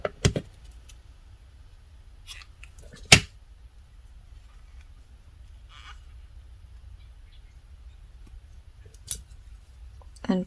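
Scissors snip crochet yarn from a Dollar Tree Crafter's Square puppy dog kit, giving a few sharp, close cuts spaced apart over a quiet background.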